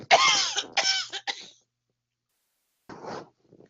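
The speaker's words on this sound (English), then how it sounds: "I'm sorry, I got a cough" A person coughs several times in quick harsh bursts close to the microphone, followed by a pause and one more rougher cough or throat clearing, with no talk over it.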